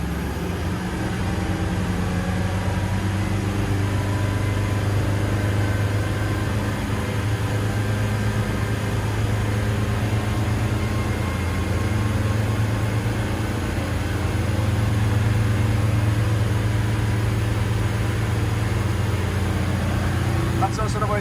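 Twin Volvo Penta D4 260 hp sterndrive diesels drive a Cranchi Zaffiro 34 boat at full speed, a loud, steady low roar with rushing wind and water, while someone talks over it.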